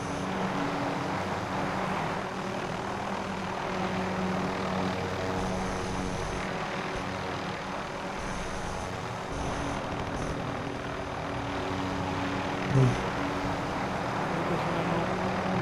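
A helicopter flying overhead in a video game, its rotor and engine drone steady and loud for the full span, with faint game effects and a brief thump near the end; no speech.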